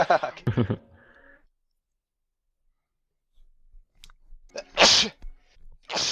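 A player in a Left 4 Dead 2 co-op session sneezes loudly and sharply near the microphone. Brief chatter and clicks come before it, and soft breathy noises follow.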